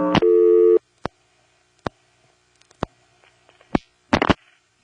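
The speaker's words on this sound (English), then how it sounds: "That was the rego dropping and the service code trunk flashing." An NX1-E telephone exchange register drops and a service code trunk flashes: a short buzzing tone, then a series of separate sharp clicks and relay clacks spaced irregularly, ending with a quick double click.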